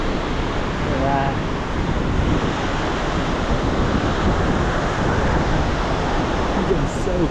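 Roaring waterfall spray and mist in Yosemite National Park, a dense, steady broadband rush that fills the whole clip at close range, with wind buffeting the microphone throughout.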